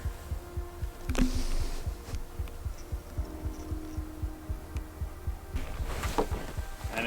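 A 2D diesel tent heater starts up outside in winter, a steady low throbbing pulse with a continuous hum, mid-distance and moderately quiet, with a few brief clicks.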